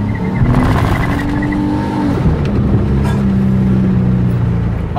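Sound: car doing a brake stand burnout

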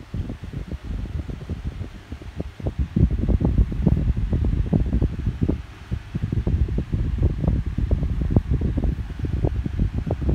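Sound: two electric fans running at max speed

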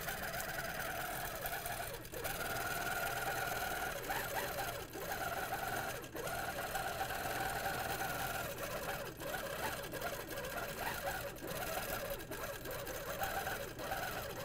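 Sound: HQ longarm quilting machine stitching

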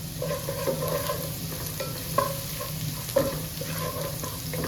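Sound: garlic frying in a pan

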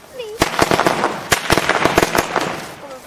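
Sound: firecrackers going off

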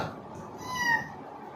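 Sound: child imitating a cat meow

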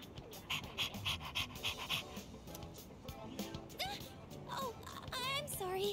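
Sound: dog panting in the Persona 3 Reload video game

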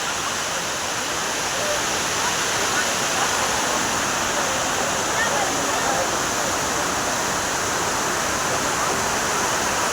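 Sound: Courtallam main waterfall, heavy water flow

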